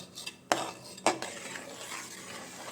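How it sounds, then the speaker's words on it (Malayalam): A spoon stirs lentil payasam (parippu pradhaman) in a cooking pot, with two sharp scrapes against the metal early on, then a steady, softer scraping that continues close by. "നന്നായിട്ടൊന്ന് ഇളക്കി യോജിപ്പിക്കാം കൈവിടാതെ ഇളക്കിക്കൊണ്ടിരിക്കുന്ന"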